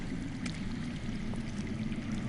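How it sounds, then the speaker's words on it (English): Water runs steadily somewhere underground in the Game of Thrones video game, a faint, continuous trickling and flowing murmur with no voices over it. "I hear water. From underground."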